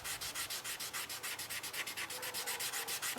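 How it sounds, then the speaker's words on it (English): A stained, unfinished wooden award is hand-sanded to rub out a spot, producing a close, rapid run of rhythmic back-and-forth scratchy strokes. "Go back in and sand that out."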